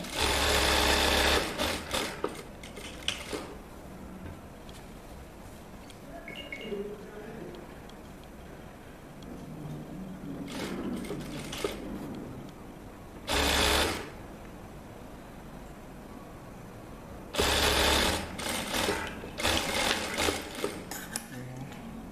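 A sewing machine stitches a shirt, running in loud bursts with back-stitching at the start and end of seams, separated by quieter stretches where a person talks.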